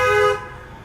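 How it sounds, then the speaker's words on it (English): A car horn on a city street, one loud sustained honk that cuts off quickly and leaves quiet traffic noise behind. "People just honk when they see cameras, apparently."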